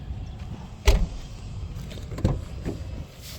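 Power windows in a car's four-window set glide up and down, motor whirs rising in two distinct pushes with soft thuds as the glass stops, close by in a quiet cabin.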